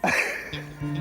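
A short, harsh cough with two or three quick throaty bursts close to the microphone, heard alone.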